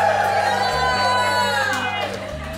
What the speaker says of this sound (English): so we have a full crowd